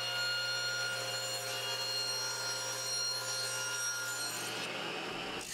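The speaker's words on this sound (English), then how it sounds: "Now it's time to trim down the slider so it's the correct width for the base." A wooden slider for an adjustable sofa table is trimmed down to width, giving a continuous loud, even cutting and rubbing sound close by that stops abruptly near the end.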